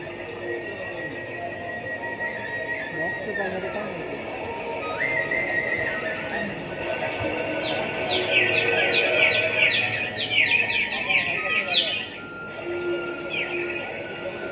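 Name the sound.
birds chirping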